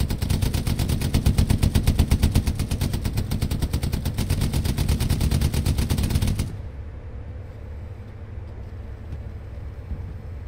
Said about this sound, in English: Enemy machine gunner to your left.